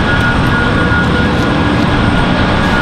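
A United Embraer E175 jet taxis just below, engines producing a loud, constant roar with a thin high whine throughout.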